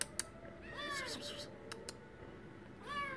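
A white cat meows twice, a drawn-out meow followed later by a shorter one, faint and nearby against low room noise and a few light clicks.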